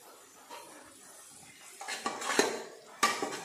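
Ginger-garlic paste and browned onions are stirred in oil in a pan for pav bhaji, with a spatula scraping and clinking against the metal in irregular bursts over a faint sizzle.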